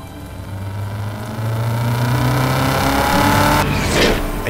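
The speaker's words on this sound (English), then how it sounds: "Nothing illustrates all of this better than the sight and sound of the new Corvette itself." A new Chevrolet Corvette engine sounds loud and close, a steady rumble that swells as revs climb, then a sharp surge toward the end, with no talk over it.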